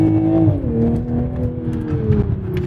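A car engine revs while driving, a steady droning note that sweeps down then holds and slowly climbs again, loud and close from inside the car, with no talking over it.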